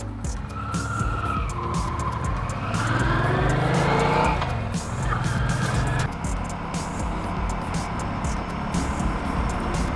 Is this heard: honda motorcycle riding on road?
yes